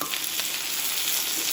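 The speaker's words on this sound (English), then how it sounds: "And we stir all the time. That's why it's called stir fry" Vegetables stir-fry in a pan with a steady, close sizzle and crackle, alone and continuous.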